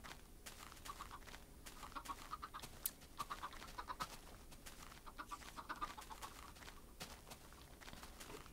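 Many chickens cluck and squawk together in a Minecraft game, a dense, busy chorus of overlapping calls running throughout at a fairly quiet level.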